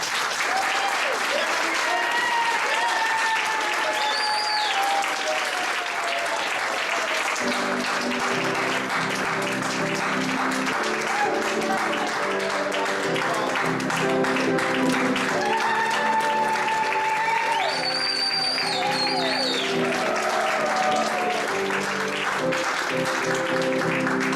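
A graduation audience at a fitness professionals' college ceremony claps steadily and loudly for over twenty seconds, with cheering and whistles rising above the sustained applause.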